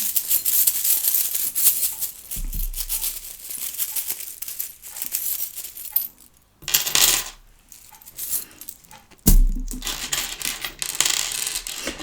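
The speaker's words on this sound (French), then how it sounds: "On tape quelques petites breloques." Small metal charms for a tarot reading clinking and jingling together in bright, dense bursts, with brief quiet gaps between, close by and fairly loud.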